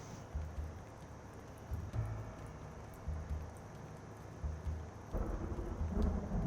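A thunderstorm in the video game Blacksad: Under the Skin: steady rain hiss with several low rumbling thunder rolls, growing heavier toward the end.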